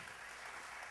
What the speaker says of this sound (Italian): Un applauso per la signora.